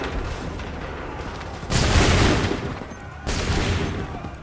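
Musket volleys fire in Assassin's Creed 3 as a dense crackling fusillade with two distinct bursts over a constant battle din, loud and sudden, each trailing off into rumbling noise.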